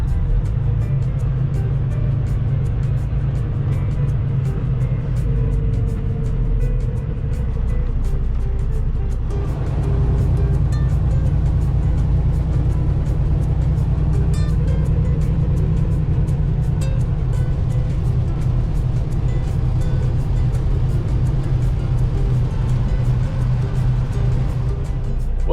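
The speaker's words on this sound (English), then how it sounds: "Good old Nashville traffic." Nashville road traffic is heard from inside a regional truck's cab, a steady low engine and road rumble with passing vehicle noise and no talk.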